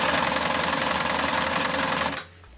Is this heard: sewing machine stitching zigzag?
yes